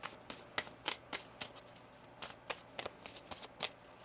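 Tarot cards being shuffled by hand in a series of crisp, irregular riffling bursts, close by, with faint background hum and no talking.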